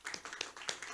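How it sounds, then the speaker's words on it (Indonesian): A crowd at an event in Surabaya claps for a regional hospital team, a brief burst of dense, fairly distant applause. "tepuk tangan untuk"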